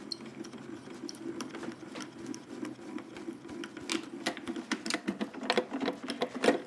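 A die-cutting machine feeds cutting and base plates through with a low mechanical hum and a series of clicking, crackling ticks that grow louder toward the end.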